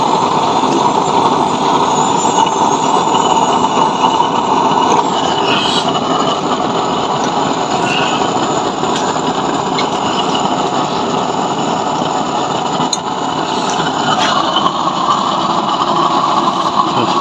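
A burner chamber roars steadily during a test firing, a loud, continuous broadband rush that holds nearly unchanged for the whole stretch with no speech.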